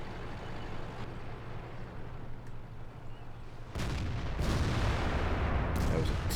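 A World of Tanks heavy tank cannon fires with a sudden deep blast that rolls into a sustained loud rumble, following a quieter stretch of steady engine hum; talk is present.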